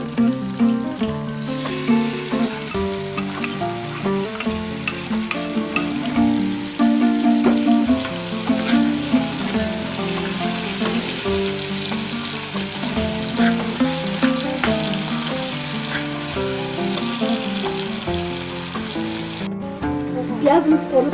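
Onions sizzling in hot oil together with browned meat in a kazan for Nauryz kozhe, a continuous close crackling fry with occasional stirring knocks, no voices heard.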